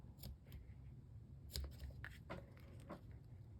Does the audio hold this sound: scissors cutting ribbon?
yes